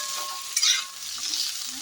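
Steamed cauliflower and soybean curry hitting a hot pan with mustard, a short close sizzle with a quick stirring scrape and a brief hissing burst partway through.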